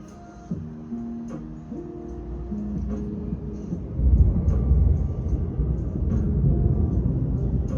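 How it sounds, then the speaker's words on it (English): Deep rolling thunder that builds into a loud sustained rumble, following a few soft melodic music notes at the start. "thunder."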